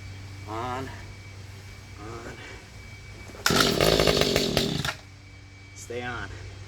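A Mantis tiller engine with a carburetor still needing adjustment fires and runs loud and close for about a second and a half before dying, with someone talking briefly before and after.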